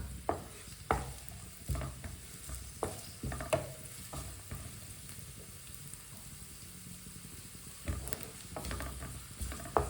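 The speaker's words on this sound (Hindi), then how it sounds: "प्याज को थोड़ा सा पका लेंगे, 1 मिनट के लिए पका लेंगे" Onions fry in a pan over a medium flame. A soft, steady sizzle carries on throughout, broken by intermittent scraping clicks of a spoon stirring the pan.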